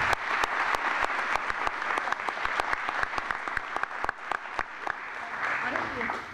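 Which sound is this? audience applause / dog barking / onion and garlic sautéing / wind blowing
audience applause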